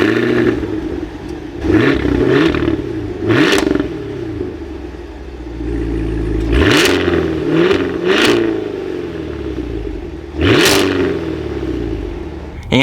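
A 2023 Cadillac Escalade V 4WD with a supercharged V8 fires up and is revved repeatedly, with loud rising and falling exhaust sweeps, several sharp blips and an idle rumbling between them, close to the listener.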